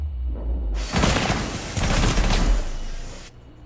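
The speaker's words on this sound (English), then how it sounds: "I'm gonna shoot the thermite thing" Rapid gunfire in Rainbow Six Siege shooting at a thermite breaching charge, a dense burst of close, loud shots lasting a few seconds before cutting off abruptly.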